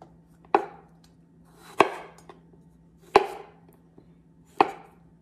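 A knife chops ingredients for a squid and pineapple stir-fry on a board, four sharp, evenly spaced, close thuds with a faint steady hum beneath.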